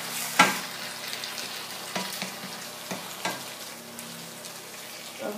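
Onion cooking in a pan with a little water, a soft continuous simmering sizzle up close, broken by a few brief clinks and scrapes, no talk.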